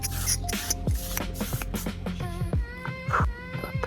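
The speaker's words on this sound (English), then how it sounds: "I'm gonna use the one size setting spray" Makeup setting spray misted from a bottle in several quick, close bursts, separated by short pauses, with no talking over it.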